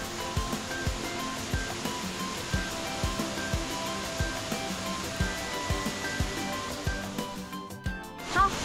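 A waterfall at a bend on a forested mountain hiking trail in Maolin, Kaohsiung, Taiwan, pours in a steady broadband rush with faint irregular thumps, dropping briefly near the end.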